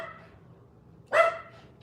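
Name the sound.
dog barking for food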